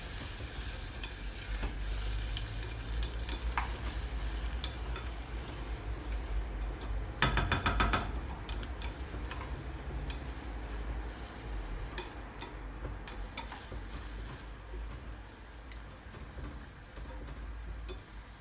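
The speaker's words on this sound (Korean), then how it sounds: "꼬냑 약간, 마지막으로 화이트 와인까지 넣고 졸여줍니다." Duck sauce reduces with cognac and white wine, bubbling and sizzling steadily up close in a pan, with a brief burst of clattering stirring around the middle.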